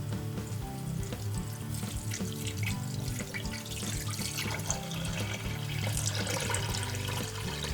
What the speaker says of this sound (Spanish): Ponemos los tarros en una olla y los cubrimos con agua.